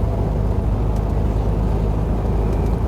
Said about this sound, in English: I love driving this car.